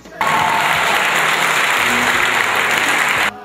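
A crowd at a regional rally gives the Republican Party leader sustained, loud applause in a thick, even roar. It starts abruptly and runs for about three seconds before cutting off.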